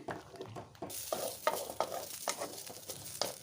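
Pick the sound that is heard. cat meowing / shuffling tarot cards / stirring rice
stirring rice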